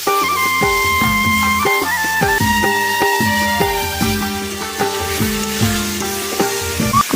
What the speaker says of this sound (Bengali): মশলাটা একটু ভালো করে কষিয়ে নেবো